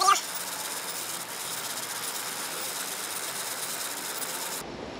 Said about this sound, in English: We've got the 50 pound braid cut onto the reel after we tied our little knot. And then we're just gonna start reeling.